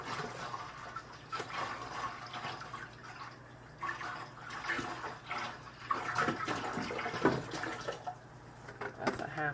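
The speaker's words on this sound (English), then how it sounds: "next we're going to put a gallon of apple cider in it" Apple cider, about a gallon poured in half-gallon batches, splashes and gurgles into a jar, a steady liquid pour with some clunks and a soft voice in the background.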